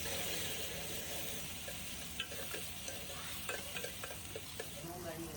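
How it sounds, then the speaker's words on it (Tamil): Onion, curry leaves and tomato sauté in a pan with a soft, continuous sizzle. Occasional light scrapes and clinks of stirring sound close by, with no talking. "நான் வந்து வெங்காயம், கருவேப்பிலை, தக்காளி எல்லாம் ஒண்ணா போட்டு வதக்க போறேன்."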